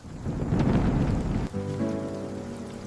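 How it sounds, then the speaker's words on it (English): Heavy rain in a thunderstorm, a loud roar with low rumbling that lasts about a second and a half, then cuts off and gives way to sustained tonal sounds. "The storm is getting worse and lightning is everywhere right now!"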